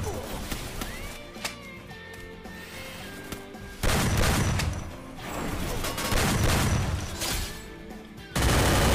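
Rapid MP5 submachine gun fire in the Free Fire mobile battle game, with loud repeated bursts that start partway through and come back in heavy stretches, with quieter game ambience and faint talk in the gaps.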